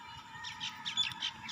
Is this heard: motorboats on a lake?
no